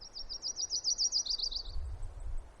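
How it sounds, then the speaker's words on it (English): Yellow-rumped warbler singing a brief trilled song that drops in pitch at the end: rapid high notes for about a second and a half, clear and nearby, with low background rumble after. "Sometimes it goes down at the end."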